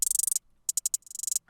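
Crisp electronic hi-hat ticks from a hyperpop beat fire in fast, evenly spaced bursts, with a brief gap midway before the rapid pattern resumes.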